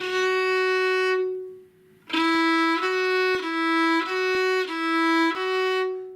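A bowed violin holds a long note, pauses, then plays a series of connected notes alternating between two pitches a whole step apart, clear and close.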